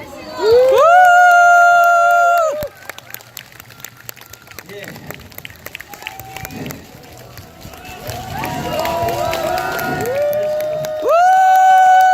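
Festival crowd at a traditional Korean tightrope-walking show, with cheering and clapping swelling and fading around loud sustained musical tones, while voices and shouts carry through the quieter middle.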